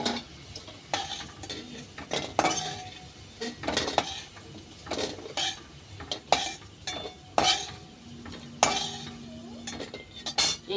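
Deep-fried potatoes being lifted from hot oil with a metal utensil, repeated sharp clinks and scrapes against the pan at an uneven rhythm, close, over a low sizzle.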